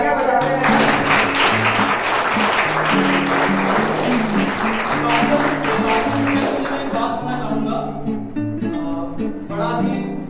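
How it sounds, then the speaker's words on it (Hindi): Applause from the audience at a school sports and culture felicitation ceremony, a steady wash of clapping over background music, with a voice speaking in places. "तालियां बजाते हैं।"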